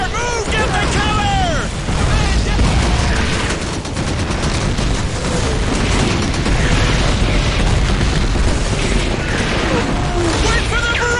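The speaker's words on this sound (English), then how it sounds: "Artillery barrage! Take cover!" Artillery barrage in the World War II video game Call of Duty 2, a loud dense stretch of booming explosions and rattling gunfire with shouting voices throughout.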